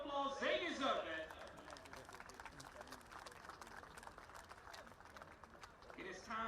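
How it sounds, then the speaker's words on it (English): A crowd applauds at a rugby sevens tournament finals day in Muscat, Oman, a broad, steady patter of clapping across the middle, with a voice speaking over a public address system at the start and end. "Give them a round of applause, they deserve it."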